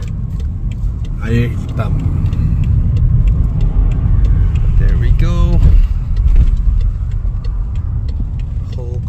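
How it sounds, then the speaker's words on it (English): Convoy of cars rolling into a Gentari EV charging station, a steady low road rumble heard from inside a vehicle, with people talking over it. "Whole convoy of cars rolling here to charge."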